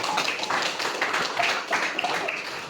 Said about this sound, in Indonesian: tepuk tangan untuk kelompok 9.